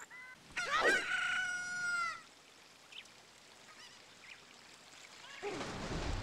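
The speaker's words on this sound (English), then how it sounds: "the chicken ran off the ledge" A chicken in the Ocarina of Time video game squawks loudly in a harsh, crowing burst near the start, then the scene trails into quiet in-game ambience with faint rustles and a rising noise at the end.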